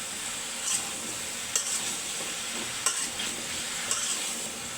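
Runner beans and potatoes stirred in a frying pan, with a steady low sizzle and a few distinct scraping strokes of the spoon spaced a second or so apart, close and fairly quiet.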